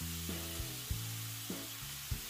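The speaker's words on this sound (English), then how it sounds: "Continue to fry the rest of your chicken until it is done." Steady frying sizzle of chicken thighs in a wide pan fills the background, loud and continuous, with occasional clunks and tonal scraping as the chicken shifts in the pan.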